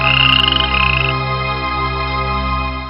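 A green frog from a pond croaks in a loud, close, droning call that pulses at first and then holds steady, heard alone.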